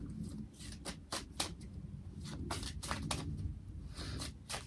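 A deck of medicine cards being shuffled, giving a close, dry run of riffling flutters and soft card slaps that repeat in quick bursts over a few seconds, with no talking.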